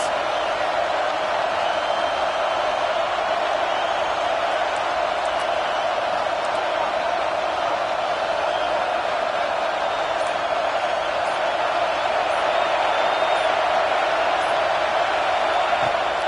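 Stadium crowd in the Madden football game, a continuous, dense roar of cheering held at a steady level behind the defense on a big third down, with no clear peaks or breaks.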